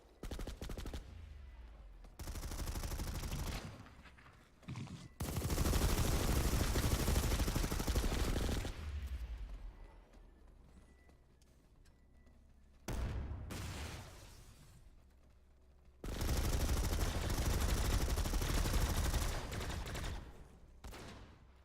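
Sustained bursts of automatic gunfire in a team video game match, long loud volleys alternating with quieter gaps of distant shots and rumble.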